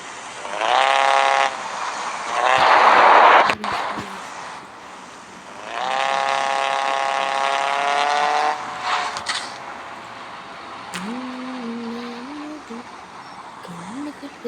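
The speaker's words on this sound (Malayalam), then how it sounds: "എനിക്ക് ഈ വണ്ടിയുടെ സൗണ്ട് ഇഷ്ടമല്ല." A car engine in the Car Parking Multiplayer video game whines in two sustained revving bursts, a tonal synthetic drone that rises and settles, with a voice briefly heard near the end.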